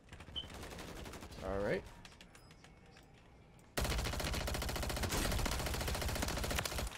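Rapid automatic gunfire in the Call of Duty Warzone battle royale on the Fortune's Keep map, a loud sustained burst filling the second half after quieter scattered shots, with a brief spoken remark early on.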